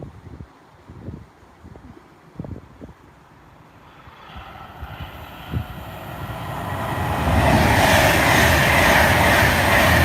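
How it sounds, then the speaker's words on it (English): A Pendolino train approaches from a distance, a rising rumble and rushing roar that builds from faint to loud over several seconds, with light clatter and wind noise early on. "There's another Pendolino."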